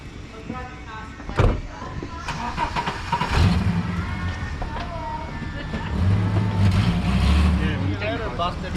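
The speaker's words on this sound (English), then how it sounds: "is that a genuine exhaust leak?" A Toyota Au Bosozoku-style build car engine with an exhaust leak idles and revs with a rough, raspy exhaust note, surging twice, while people talk nearby.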